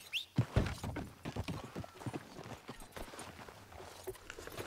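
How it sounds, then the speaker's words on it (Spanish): A Sattler horse in a video game roleplay walks with steady, fairly quiet clip-clop hoofbeats that continue throughout, with no talk over them. "¿Qué tipo de caballo es? Un sattler."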